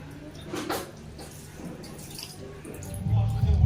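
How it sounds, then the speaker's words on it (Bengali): Water poured over a Shiva idol at a Mahashivratri puja splashes and trickles, swelling louder toward the end, with faint voices in the background. "জল ঢেলে দাও।"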